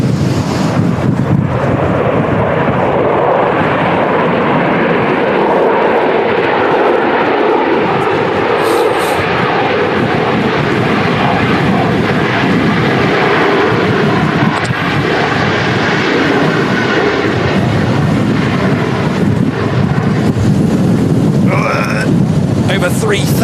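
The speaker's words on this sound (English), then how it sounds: "KLM 737-800 touching down in this crazy crosswind at Manchester Airport" A KLM Boeing 737-800 touching down in a strong crosswind at Manchester Airport during a storm, heard as a loud, sustained jet engine roar mixed with heavy gusting wind buffeting the microphone, continuous throughout.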